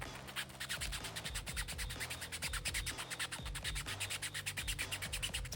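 Rapid rhythmic scratching of sanding on 3D printed plastic, close and steady, back-and-forth strokes repeating quickly without pause.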